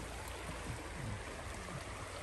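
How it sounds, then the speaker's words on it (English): Creek water rushes and gurgles steadily in Alaskan wilderness, a close, continuous broadband flow with no voices over it. "Coming to the creek again."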